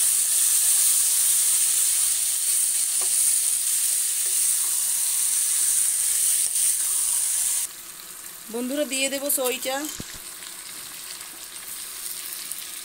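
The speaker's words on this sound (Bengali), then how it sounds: "এবার আমি মাংসটা ভালোভাবে কষিয়ে নেব।" Goat meat sizzles loudly as it is fried and stirred in a hot kadai. The sizzle stays strong and steady, then drops to a quieter hiss when a person speaks briefly over it.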